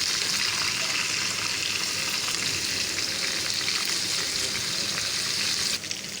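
Egg koftas sizzle steadily in hot oil over a low flame, a constant dense frying hiss close by with faint stirring, easing slightly at the very end.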